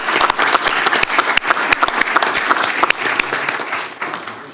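Applause from the audience at a county commission meeting, many hands clapping nearby, a dense burst that keeps going for several seconds and then fades.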